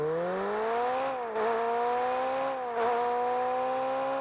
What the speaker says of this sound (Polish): dźwięk silnika posłuchajcie